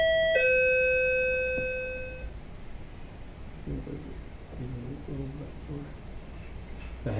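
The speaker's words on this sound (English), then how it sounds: "this is a doorbell" A doorbell rings indoors: one clear electronic chime tone that rings out and fades over about two seconds, followed by quiet room noise and faint speech.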